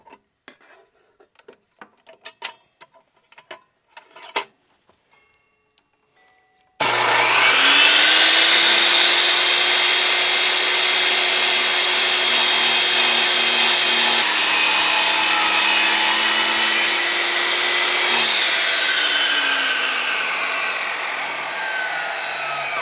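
A miter saw fitted with an old blade grinds through fire brick in one long continuous cut lasting about fifteen seconds, loud and harsh with a steady whine, after a few scattered clicks and knocks beforehand.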